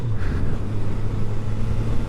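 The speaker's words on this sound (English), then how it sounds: "Lights go green, revs are up," A Kawasaki GPZ750 motorcycle revs at a race start at the North West 200 in 2019, with a loud, steady engine drone close by.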